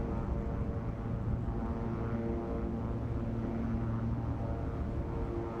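Propeller aircraft engines at takeoff power in the X-Plane 11 flight simulator, a loud, continuous droning roar with steady propeller hum throughout and no voices.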